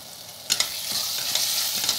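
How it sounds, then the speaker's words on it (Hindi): Vegetables cook in tamarind paste for sambhar, a close steady sizzle and bubbling with a few sharp clinks and scrapes of stirring in the pan, no talking. "इमली के पेस्ट के अंदर ये सब्ज़ी पकाएंगे"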